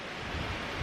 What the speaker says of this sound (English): it just got really windy